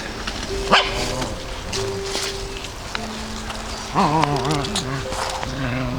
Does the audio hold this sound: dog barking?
yes